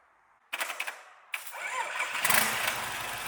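A Hino K13C in-line pump truck diesel engine of 380 horsepower cranks with a couple of starter bursts, then catches and settles into a loud, rough, rising run close by.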